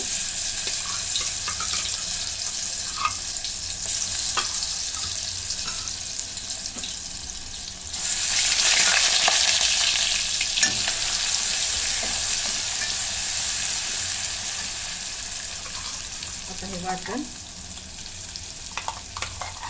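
Ginger garlic paste sizzles loudly and steadily in hot oil, close up, with stirring and a brief surge of hiss midway; no talking.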